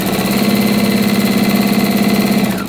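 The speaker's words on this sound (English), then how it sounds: "get my 1/4 inch seam lined up, and I'm going to sew down" A sewing machine runs steadily, stitching a quarter-inch seam on a beginner patchwork quilt; a continuous, close mechanical hum and rapid rhythmic needle whir carries for about two and a half seconds before stopping.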